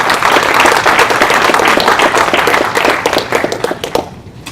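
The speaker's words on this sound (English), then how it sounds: "Let's give a round of applause for you." Audience applause at a panel discussion on gun violence and law enforcement: loud, dense clapping from a large crowd, sustained for about four seconds before thinning and fading out.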